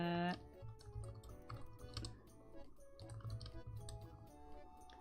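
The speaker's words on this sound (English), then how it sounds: "don't know if you can hear me typing." Quiet, irregular clicks of typing on a computer keyboard, soft and close, with faint background tones underneath.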